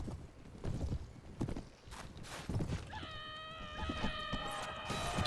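A damaged, slowed horse's hooves clip-clop in Mount & Blade: Warband (Floris Edition), quiet and irregular, with a sustained tonal sound joining partway through.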